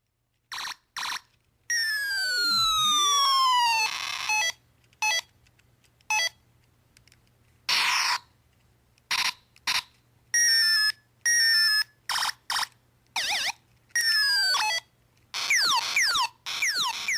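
A keychain sound-effect toy plays 8-bit bleeps and a wailing siren in choppy bursts, the electronic tones sweeping up and down and stopping and starting repeatedly, loud and close.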